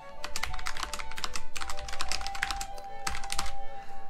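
Rapid typing on a computer keyboard, a dense stream of crisp key clicks with brief pauses and a few heavier keystrokes, close and steady, with no voices.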